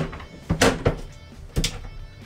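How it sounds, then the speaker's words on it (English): Concertina door of a 20-foot Goldstar RV Maverick caravan ensuite being pulled shut, giving two pairs of close, clattering folding knocks about a second apart, with no voices. "From there we also have a concertina door"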